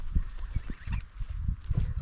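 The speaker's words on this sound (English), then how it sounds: "Geese are having a good time." Geese in an old barn honking and cackling in uneven bursts, fairly close and moderately loud, with no voices over them.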